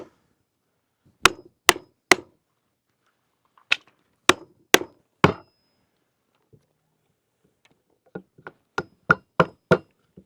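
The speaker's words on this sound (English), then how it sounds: "all you gotta do is just tap these and these break off. And then just chisel them out flat" A chisel on a home improvement job is tapped to break pieces loose, giving sharp, ringing knocks in quick groups of three or four separated by pauses, close and alone.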